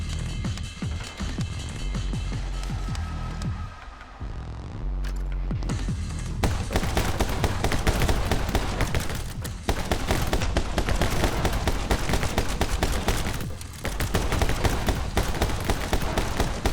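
Video game gunfire in My Friend Pedro cracks in loud rapid volleys over a busy game soundtrack, shots piling up densely with brief gaps between bursts.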